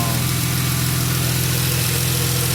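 A Chrysler Pentastar V6 running after head gasket, lifter, exhaust valve and rocker arm repair, a steady, close idle drone with a constant low hum and even vibration throughout.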